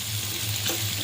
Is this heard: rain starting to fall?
no